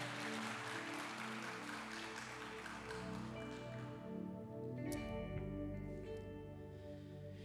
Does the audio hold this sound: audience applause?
yes